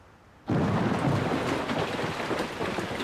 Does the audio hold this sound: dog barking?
no